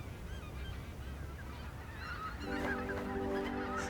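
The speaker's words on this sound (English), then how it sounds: "the geese can rest on its great marshy plains" Flock of geese honking on the wide marshy plains of the lower Rhine, a dense chorus of overlapping calls that swells louder toward the end over steady outdoor ambience.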